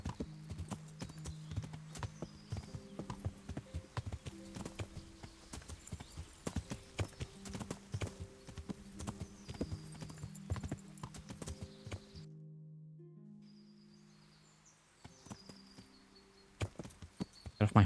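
Horse hooves clip-clop in a steady rhythm in the video game Kingdom Come: Deliverance, close and distinct over faint game music, pausing briefly before resuming.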